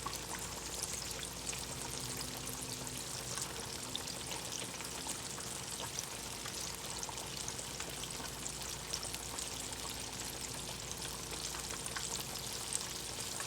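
Chicken pieces frying in a pot of oil give a continuous, even crackling sizzle with fine popping, steady throughout at a soft, close level, with no talking.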